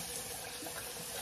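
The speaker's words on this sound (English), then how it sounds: "add about that much water above the rice" Water pours steadily over uncooked rice in a pot before cooking, a brief, soft, even splashing rush with no voices.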